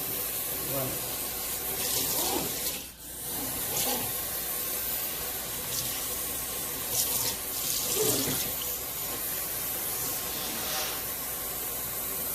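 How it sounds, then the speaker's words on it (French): Tap water runs steadily into a kitchen sink as it is rinsed, with a continuous splashing hiss that shifts slightly as the stream is moved around the basin, fairly close and alone. "nous allons rincer maintenant l'évier"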